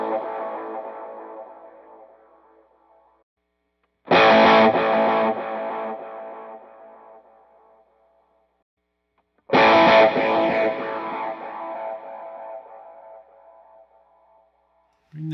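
An electric guitar runs through an HX Stomp delay effect with feedback raised to 55% and a 45% mix. Three strummed chords ring out, each trailing off in repeating echoes that fade slowly.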